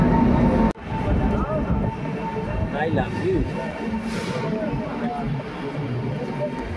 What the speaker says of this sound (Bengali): বর্ধমান স্টেশনে ট্রেন 2 মিনিট দাঁড়ানোর পরে ট্রেন কিন্তু আবারও ছেড়ে দিল